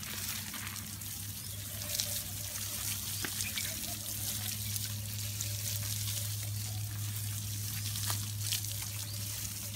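Water running and trickling while garden plants are watered at a house, a continuous soft splashing flow with a steady low hum beneath it, fairly quiet and without talk.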